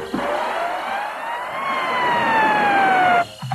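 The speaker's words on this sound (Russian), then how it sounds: "Звучит сирена" A game show siren sounds at the end of the final round of a 1995 Nizhny Novgorod TV quiz, a loud sustained wailing tone that holds steady for about three seconds before cutting off abruptly.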